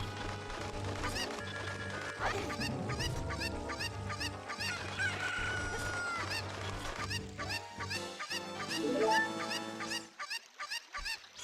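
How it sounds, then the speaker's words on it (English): Chickens clucking in the video game Ocarina of Time, a steady run of busy, squawky clucks and cackles over game music, ending abruptly near the close. "Chicken ran away."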